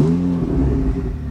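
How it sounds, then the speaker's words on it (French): A tuned Ferrari 488 GTB twin-turbo V8 with an aftermarket exhaust starts up, a loud, close, deep engine roar that rises briefly then settles into a rough, throbbing idle, with no talk. "Par contre, ça gueule vraiment comme il faut maintenant, vous allez voir avec l'échappement"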